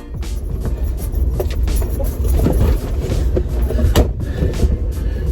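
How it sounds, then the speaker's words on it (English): A Porsche 911 with a flat battery being bump started, its engine catching and running loud and close in a rough, uneven rumble with sharp clunks and knocks breaking through. "So Josh is going to have to give me a bump start."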